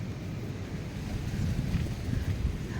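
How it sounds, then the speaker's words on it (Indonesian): Strong wind gusts through a garden in Jakarta, a steady, loud rushing buffet with low rumbling surges against the microphone and no voices. "tuh anginnya kenceng banget nih"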